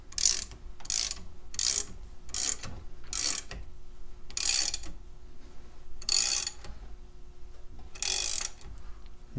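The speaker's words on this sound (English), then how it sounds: "let's get the screw spreader in position and see if we can open this up" A screw spreader being forced into a Bell Catalyst 300 bike lock clamped in a vise, giving about nine sharp metallic ratcheting bursts at irregular intervals, close and fairly loud, with a low steady hum underneath.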